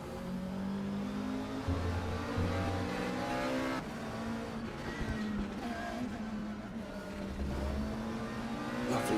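A McLaren race car engine during a race, a steady loud revving drone with shifting pitch that holds for several seconds, rising and easing as it runs on.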